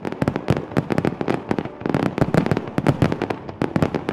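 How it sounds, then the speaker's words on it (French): Rapid bursts of winter fireworks at La Malbaie, Charlevoix, pop and bang in quick irregular succession, loud and sharp, with short pauses between clusters. "les feux d'artifice à la Malbaie."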